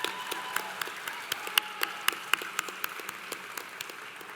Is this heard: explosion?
no